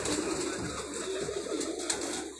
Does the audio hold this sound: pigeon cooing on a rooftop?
yes